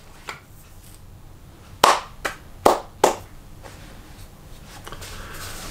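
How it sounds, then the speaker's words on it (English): Hands clapping sharply in a quiet room: one faint clap, then four loud, close claps in quick succession, followed by low background hiss. "I'm clapping because I want people to understand."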